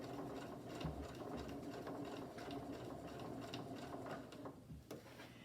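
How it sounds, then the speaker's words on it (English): A sewing machine stitching the edge of a rag-edge quilt hums steadily and close, with a dense rapid needle chatter that runs almost without pause and dips briefly near the end. "I'm going to continue on with pinning the edge and sewing along and doing my miter edges."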